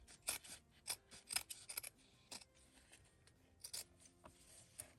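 Scissors snip fabric tape up close in a quiet craft setting, a handful of short, crisp cuts in irregular bursts with soft rubbing between them.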